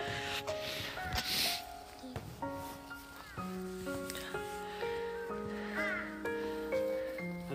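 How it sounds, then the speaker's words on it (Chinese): A crow caws near a cemetery among trees, its harsh calls repeating at moderate distance over faint rustling, with other vocal sounds mixed in. "乌鸦"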